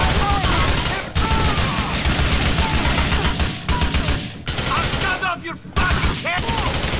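Continuous loud gunfire from GTA 4, with bursts of automatic fire and repeated shots filling the whole stretch, broken by a few brief gaps, while excited game voices talk over the shooting.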